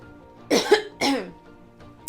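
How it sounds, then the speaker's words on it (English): Two loud, close throat-clearing coughs in quick succession, followed by quiet and a faint click at the end. "Quick cough."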